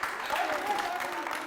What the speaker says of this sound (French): Merci de l'applaudir bien fort.